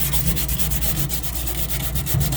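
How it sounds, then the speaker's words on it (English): Sandpaper rubbed over the painted, slightly rusted inner walls of a microwave oven, giving a steady, close, loud scratching with quick repeated back-and-forth strokes and no talking. "on the whole paint, I'm going to sand it also"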